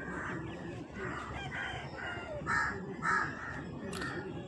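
A desi rooster crows repeatedly at Balibhasa village market in Jhargram, its calls in a series of close, loud bursts over a busy market murmur with faint background voices.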